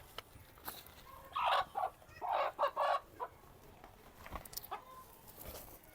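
Chickens cluck in several short bursts around the middle of the stretch, fairly close, with faint background noise and no talk.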